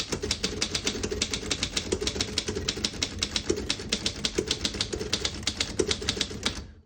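Rapid, steady keystrikes from a 1927 Underwood No.5 vintage desktop typewriter, a dense run of sharp mechanical clacks close by, typed alone at a brisk even pace.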